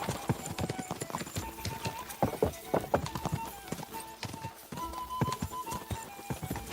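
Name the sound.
horse galloping, from the video game Kingdom Come Deliverance 2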